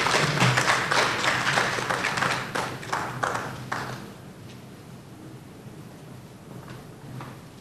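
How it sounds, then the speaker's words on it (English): Applause from an audience at a Ghanaian business and trade gathering, a moderate burst of scattered clapping that fades after a few seconds into quiet room tone with a faint murmur. "Ladies and gentlemen, let us, with a round of applause again,"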